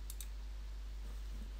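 Two quick, faint computer mouse clicks come close together right at the start, then only quiet room hiss follows.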